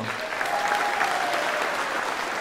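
A crowd at a campaign rally claps steadily for a couple of seconds, a dense, even patter of many hands with no break.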